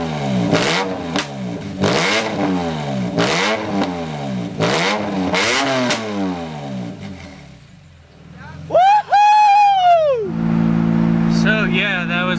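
A BMW M3 GTR with a side exit exhaust revs hard again and again, loud rising-and-falling blasts close by, then the revs settle before a sharp whining climb near the end, with people talking around it.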